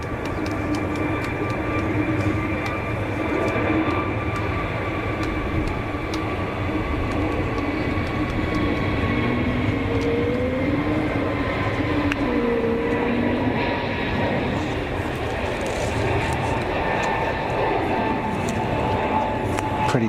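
A Pegasus Airbus A320neo rolls for a derated takeoff at Zurich Airport. A steady, moderately distant engine roar carries a faint tonal whine throughout and stays even in level, with no voices in the clip.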